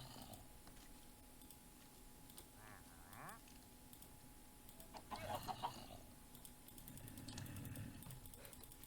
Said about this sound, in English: Yep, we got a baby chicken bred.